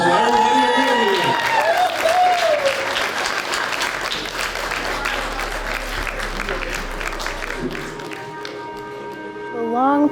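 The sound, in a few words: audience applause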